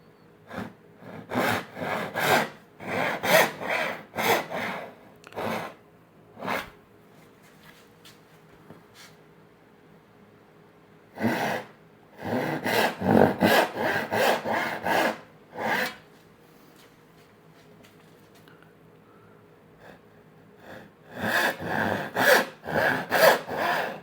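Hand saw cutting dovetails in wood for a drawer box: repeated rhythmic rasping saw strokes in bursts, close and loud, separated by quiet pauses between cuts.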